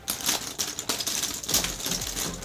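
Irregular hard plastic clicks and clacks, close and fairly loud, as the stiff resin scales of a mermaid tail knock together while the wearer sits and shifts around.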